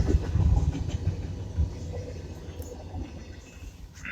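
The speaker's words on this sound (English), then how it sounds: "There comes the end of this train here" The tail end of a freight train rumbles past up close, a low heavy roll of wheels and cars that gradually thins out and fades as the last cars go by.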